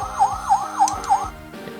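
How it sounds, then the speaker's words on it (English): The siren gimmick of a Headrobots Butcher toy robot plays a quick electronic wail, four rapid up-and-down whoops in a row, loud and close, then cuts off. "if you are to activate his siren gimmick"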